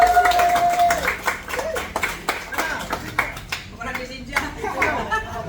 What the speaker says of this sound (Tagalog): Ay, palakpak naman kayo.